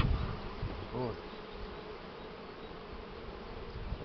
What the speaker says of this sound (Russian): Придавил случайно пчелу, так кидаться на себя.